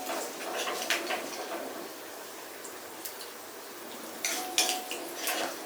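A hot pan of popped mustard seeds, chillies and curry leaves is tipped into a coconut and kudampuli curry made without fish, with metal pan clatter and a brief sizzle near the end over quiet kitchen background.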